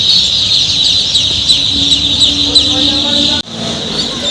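A mass of Pekin ducklings being packed into boxes for transport keeps up a loud, close, continuous chorus of high peeping, with faint voices beneath and a sharp dropout near the end.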